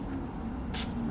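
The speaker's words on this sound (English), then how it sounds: "you definitely want to spray it into your hands" Curl refresher spray squirted into cupped hands, one short airy hiss in the middle over a steady low room hum, close and fairly quiet.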